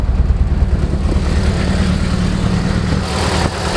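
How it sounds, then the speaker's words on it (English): A 1992 Honda Accord engine running in a workshop, heard as a brief, close, steady low rumble with a slightly uneven idle throb throughout. "Start it, just so you guys can hear how fast it starts up."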